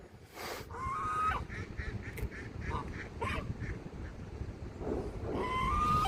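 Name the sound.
ducks calling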